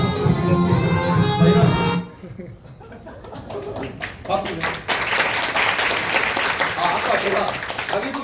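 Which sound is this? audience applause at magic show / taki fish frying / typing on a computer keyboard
audience applause at magic show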